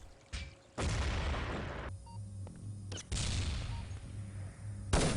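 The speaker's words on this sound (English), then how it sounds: "lot of explosions." Video game explosions and gunfire boom in bursts during a competitive Urban Zone team match, loud blasts separated by brief quieter gaps, with no talk over them.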